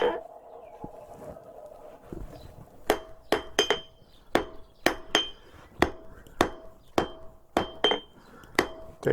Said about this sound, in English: go back to my forging hammer